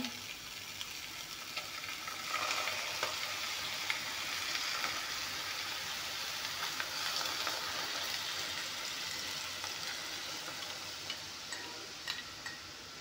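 Curd added to a hot cooking pan sizzles steadily, a dense, even frying hiss that continues throughout with no talk.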